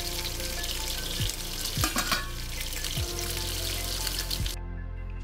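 Couscous vegetables with tomato concentrate bubble and sizzle in a pot, a steady close frying hiss with a few soft knocks, cutting off abruptly near the end.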